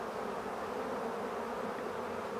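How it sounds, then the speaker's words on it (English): A swarm of honeybees drones in a dense, continuous buzz as they march into a hive box near the ground, steady and fairly close with no voices. "a lot of the bees tend to take flight"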